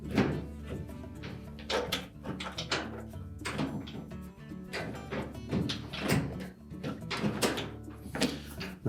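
Whirlpool dryer door hinges are fitted into slotted openings one at a time, giving repeated quiet metallic thunks, clicks and knocks at close range with irregular spacing.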